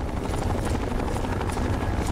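A helicopter circles overhead in Fallout's Tale of Two Wastelands, its rotor chop a dense, steady, loud beating that fills the whole moment without any talk.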